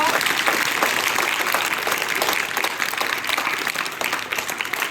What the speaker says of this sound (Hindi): सामूहिक रूप से प्रसन्न होते हुए क्लैपिंग कीजिए